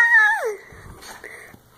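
An excited dog yelps and whines in a short high-pitched burst, then quieter snuffly sounds follow while it plays with a ball, close by with no talking.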